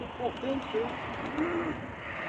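Low, soft cooing of a pigeon, a few short rolling calls over a continuous background hum.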